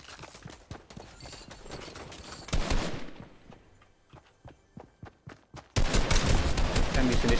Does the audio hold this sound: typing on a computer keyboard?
no